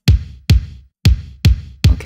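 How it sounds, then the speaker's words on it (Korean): A bouncy dance-music kick drum sample thumps five times in about two seconds, each hit punchy and deep with a short decay, loud and alone with no talking. "이렇게 통통거리는 댄스 음악에서 많이 쓰이는 킥을 이용을 했고요"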